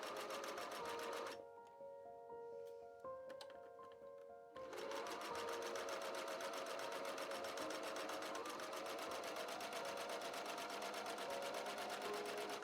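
A sewing machine stitches the back seams of a top in a steady, rapid mechanical whir, pausing briefly before running on continuously and close up.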